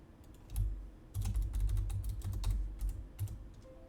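A password is typed on a computer keyboard, a quick close run of soft key clicks that comes in bursts with brief gaps.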